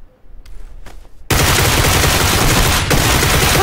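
Gunfire in the battle royale video game PUBG, a loud sustained burst of automatic shots that starts abruptly after a brief quieter moment, with no talking.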